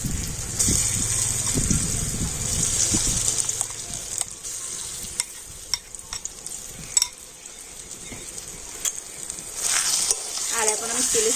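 A semolina and raw potato mixture frying in oil with cumin, stirred in a wok: a loud sizzle with scraping, then sparse clinks and scrapes, and the sizzle swells again near the end, close and alone.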